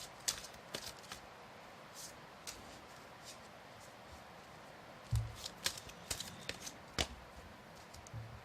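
A deck of tarot cards is shuffled by hand in short, crisp bursts of riffling and sliding, with a few sharper taps near the end, heard close against a steady background hiss.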